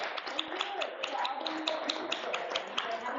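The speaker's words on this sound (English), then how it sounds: "I think we should give Kelly a big round of applause." A small group applauds a guest, sharp individual claps in a fairly sparse, irregular rhythm, close and modest in volume, with voices talking over the clapping.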